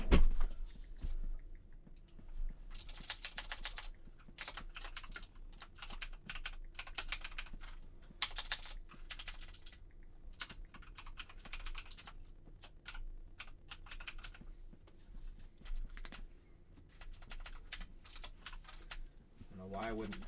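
Computer keyboard typing runs steadily throughout, quick clustered key clacks in irregular bursts at close range, with faint room noise and occasional muffled speech in the background.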